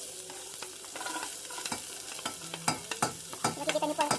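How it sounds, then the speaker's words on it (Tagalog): Onions for chicken sopas sauté in a pan, a soft steady sizzle broken by repeated scraping stirs and taps of a utensil at close range, with no voices. "Ano po kaya katagal i-gigisa yung sibuyas, boss?"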